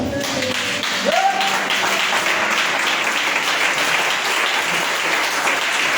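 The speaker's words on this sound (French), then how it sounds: "tiens-toi debout et acclame le Seigneur" A church congregation at a Sunday service applauds the Lord, a steady dense wash of clapping that carries on evenly throughout, loud and full, with a faint voice rising briefly.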